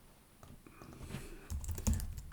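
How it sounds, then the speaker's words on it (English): Computer keyboard typing while coding a Node-RED locking feature, a run of light irregular keystrokes that builds into louder, denser taps partway through, close up with no talking. "I'm going to be typing the word locked quite a lot and see how many times I typo it"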